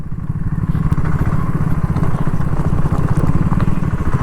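A BSA Goldstar 650 motorcycle rides over a rough road in Bengaluru, its engine giving a loud, close, continuous throbbing rumble that holds steady throughout.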